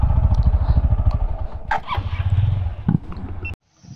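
A motorbike on a Goa beach road ridden in to be parked, its engine running loud and close with a steady throbbing idle and revving, then cutting off abruptly near the end.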